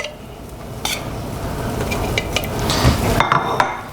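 Seared duck legs are set into the bottom of an earthenware casserole dish for a duck leg cassoulet, making close shuffling, light scraping and a few sharp clinks against the pot.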